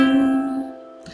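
A lyre rings out a chord, its plucked strings sustaining and slowly fading before a fresh pluck sounds at the very end, close and clear, with no voices.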